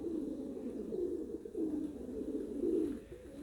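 Domestic pigeons in a Baku loft coo in low, rolling phrases, several overlapping calls repeating close by with a steady throaty murmur and no talk.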